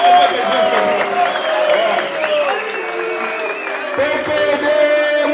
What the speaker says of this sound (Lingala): totelemi tobeta maboko mpona Joseph Kabila